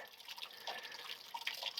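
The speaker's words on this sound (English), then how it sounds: "You see quite a bit dripping down through here." Water from melting snow drips steadily during a thaw, a quiet run of small irregular drips and trickles close by, with no voices.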